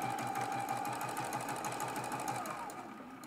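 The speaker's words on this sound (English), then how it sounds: "I'm going to backstitch just to lock that in place." A sewing machine stitches the fabric lining of a Christmas stocking made from fat quarters, its needle chattering in a fast, even rhythm with a steady motor whine, close and alone.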